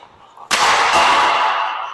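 A Trigger 8 low-kick hockey stick fires a shot, one sudden loud crack of the blade striking the puck followed by a bright, sustained noisy rush that slowly fades.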